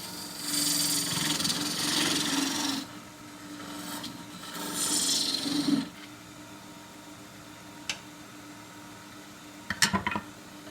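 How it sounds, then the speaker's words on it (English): Half-inch spindle gouge cutting across the bottom of an endgrain wooden bowl on a lathe: two loud, sustained rasping cuts, then a few sharp taps and knocks, close and with no talk. "coming across the bottom, I'm going to use the 1/2 inch spindle gouge, starts right on its side"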